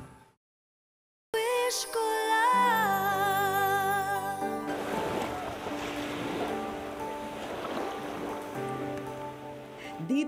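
Surf rolls onto a beach in the morning as a broad wash of waves. It sits under loud background music and grows stronger in the second half.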